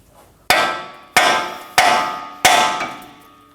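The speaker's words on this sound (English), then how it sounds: "Using a hammer, we're gonna hit right around here to pop it off." Four sharp hammer blows strike a steering part on a 2017-2024 Nissan Armada during bellow boot replacement, evenly spaced, loud and close, each metallic hit ringing out briefly before the next, with no talk.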